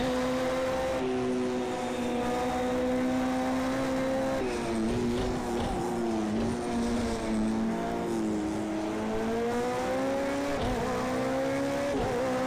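Race car engine in Project CARS 2 at Daytona, a steady loud drone with pitch rising and falling as the rear wheels spin up slightly on traction, with tire noise underneath.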